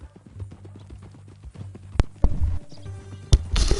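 Horse hooves clip-clop in a steady walking rhythm in Red Dead Redemption 2, clear and close, followed by a few sharp louder thuds and bursts near the end.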